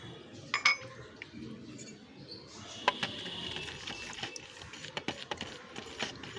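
A spoon clinks and scrapes in a bowl while curd whey is mixed with a teaspoon of turmeric, giving a run of light, uneven taps close by with no talking.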